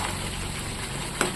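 Bottle gourd curry with chicken sizzling and bubbling in a pan, a steady close frying hiss with one brief clink near the end.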